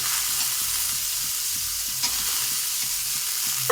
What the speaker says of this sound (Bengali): এখানে আমি ছোলা ভিজিয়ে রেখেছিলাম, এই ছোলাগুলো এর মধ্যে দিয়ে দিচ্ছি।